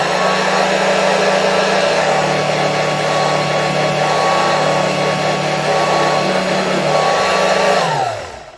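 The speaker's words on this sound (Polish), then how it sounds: "Prawdę mówiąc, to nie czuję, żeby tutaj jakoś bardzo silnie ten odkurzacz zasysał." A 1992 Royal Dirt Devil 150A vacuum cleaner runs with a loud, steady motor whine and airflow roar, holding even for several seconds before switching off and winding down at the end.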